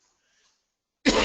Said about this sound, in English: I'm coughing a little bit again